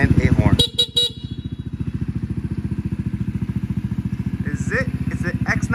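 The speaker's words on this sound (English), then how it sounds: "and a horn." A 2024 Venom X19 200cc automatic motorcycle idles with a steady thumping rhythm while its horn gives short honks and a person talks nearby.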